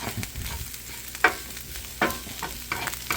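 Onions and five garlic cloves frying together in a pot for goulash: a close, steady sizzle broken by several sharp scraping stirs at uneven intervals, with no talking.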